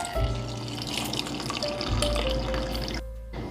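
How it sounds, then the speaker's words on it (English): Hot milk pours steadily from a glass into a cup holding a hot chocolate bomb, a continuous close liquid stream that stops near the end. "I'm just gonna add one into my cup and pour a glass of hot milk."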